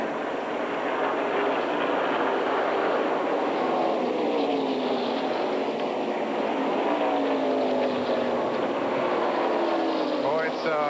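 NASCAR Winston Cup stock cars race at Daytona in 1990, engines droning in a steady roar with pitch sweeps as cars pass, heard beneath continuous race commentary.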